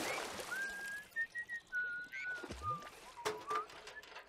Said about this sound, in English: Hey, that's right. She learned how to whistle.